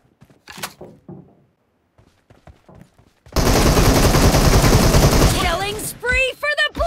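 Sustained automatic fire from an M762 rifle in the PUBG video game, a loud dense burst lasting about three seconds after quieter scattered sounds, followed by sharp ringing clinks.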